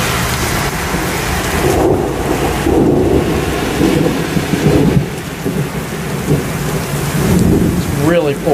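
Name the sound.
heavy pouring rain and thunder during thunderstorm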